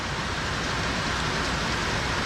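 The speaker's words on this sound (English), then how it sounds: "the rain got really hard, saw some lightning" Heavy rain pours down steadily during a thunderstorm while a rider shelters from it, a dense, even hiss of drops on surfaces all around, loud and unbroken.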